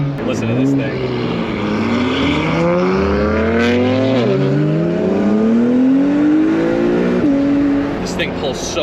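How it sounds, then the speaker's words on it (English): A BMW M3 accelerating hard on a road, its engine note climbing repeatedly through the gears, loud and close, with an occasional voice talking over it. "That M3 sounds pretty crazy."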